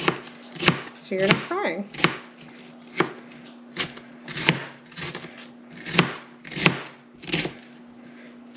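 A knife chops an onion on a cutting board in sharp, evenly spaced thuds, about ten close cuts in a steady rhythm, with a person talking briefly near the start.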